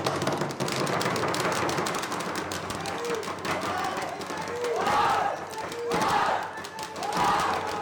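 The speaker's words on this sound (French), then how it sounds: "Allez, un petit cri de guerre." Young U15 football team shouting a war cry together after winning a cup, loud massed voices rising in bursts over a noisy, reverberant background.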